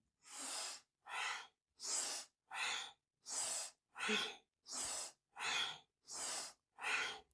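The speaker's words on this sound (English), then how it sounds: "So we're inhaling up and then exhaling down." Rhythmic yoga breathing from Kundalini practice: ten strong, even breaths through the nose, close and clear, each lasting about half a second, separated by short silent gaps at a fast, regular pace.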